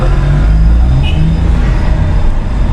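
Audi A3 engine fitted with an aftermarket air filter, giving a steady, loud, dense mechanical roar with a faint brief hiss partway through.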